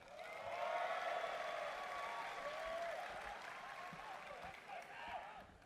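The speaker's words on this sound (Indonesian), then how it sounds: "makin muda makin kencang tepuk tangannya." Dense applause from a large audience at a HIPMI 50th anniversary celebration, steady and moderately distant throughout with some cheering voices mixed in.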